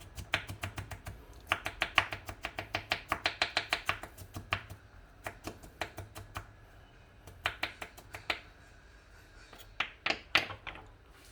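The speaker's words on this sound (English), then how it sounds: "ginger, give it a good chop" Ginger is chopped into small squares with a knife on a cutting board, giving quick bursts of sharp, close taps in rapid runs separated by short pauses.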